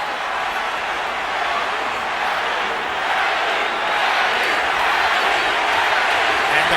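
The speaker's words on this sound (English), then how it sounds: "And the crowd picks up the chant." Boxing arena crowd at a Pacquiao versus Margarito fight, a dense, steady roar of many voices that swells slightly as a chant builds, loud and continuous with no clear separate words.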